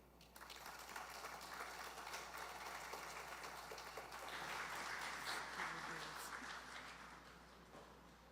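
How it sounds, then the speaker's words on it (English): An audience at the launch of a government app in Barbados claps steadily, a sustained crowd applause that swells in the middle and slowly fades, heard from a distance. "Let's give them a bigger round of applause."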